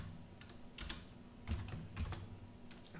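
Computer keyboard keys clack in short, irregular bursts as code is typed, close and fairly quiet with pauses between clusters of keystrokes.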